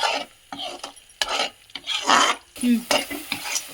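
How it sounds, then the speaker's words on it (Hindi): Masala roasting in oil in a kadhai, stirred with repeated scraping strokes over a sizzling crackle, close and moderately loud, with uneven pauses between strokes. "अब मैं इनको जब तक भूनूंगी जब तक ये ऑयल नहीं छोड़ने लगेंगे"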